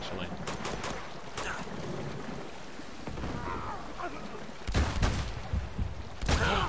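Gunshots in the video game Uncharted 2, a scattered mix of sharp cracks and bursts over a busy background, with a few louder volleys toward the end.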